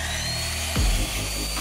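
A power tool making a square cut across a wooden plank for a treehouse, a continuous whining motor with a deeper bite in the middle as the blade passes through, close and loud.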